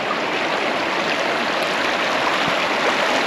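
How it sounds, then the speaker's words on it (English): A small mountain stream in a Kinnaur village flows steadily past a tent-stay property, a continuous broadband rush and gurgle of water, close and evenly loud with no talk. "so there is also a small stream running past"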